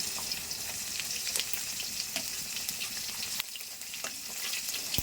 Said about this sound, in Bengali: ফোড়নে দিচ্ছি তেজপাতা